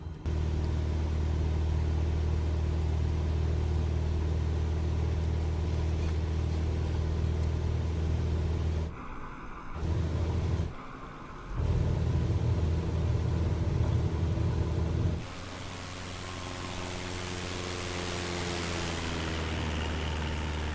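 Aircraft engines in Microsoft Flight Simulator 2020 roar steadily through a takeoff roll from Hatzerim, with a loud sustained rumble that briefly drops out twice, then a rising, shifting whine as the plane climbs away.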